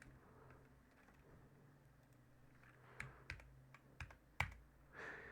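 Keys clacking on a computer keyboard while Python code is entered, quiet and sparse at first, then several sharper, louder keystrokes in an irregular burst near the end.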